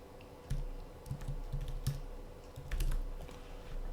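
Someone types a password on a computer keyboard, a short run of quiet, crisp key clicks in uneven bursts, close up with no talk.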